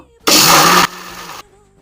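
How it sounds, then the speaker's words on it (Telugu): A mixer grinder blending coconut chutney in its jar whirs loudly for about half a second, then drops to a lower hum before stopping. "చూడండి మిక్సీ వేస్తున్నాను"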